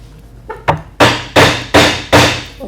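A chisel is struck by a mallet to cut away the excess of an ebony plug: five sharp, loud, evenly spaced blows close up, each ringing briefly, with no voices.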